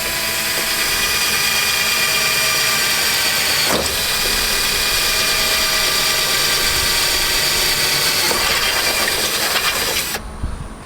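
A power drill boring holes through a beach cart frame, a loud continuous high-pitched whine held steady for about ten seconds, with a brief dip partway through before the motor winds down at the end.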